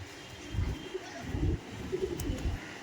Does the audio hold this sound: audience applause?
no